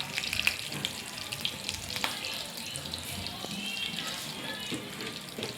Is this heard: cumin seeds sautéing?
yes